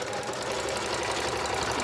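A sewing machine runs a zigzag stitch on a thick seam of thrift shop clothing, a fast, continuous mechanical whir held close and steady throughout.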